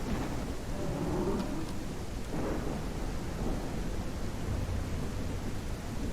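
A thunderstorm in the video game The Isle gives a continuous, loud rush of rain with low rumbles of thunder rolling underneath and no voices.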